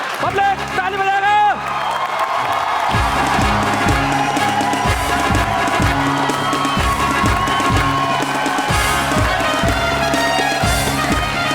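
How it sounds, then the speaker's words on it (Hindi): A live audience at a Hindi stand-up comedy and poetry show claps in loud rhythmic unison and cheers, with whoops and shouts from the crowd throughout. "पब्लिक ताली बजाएगा।"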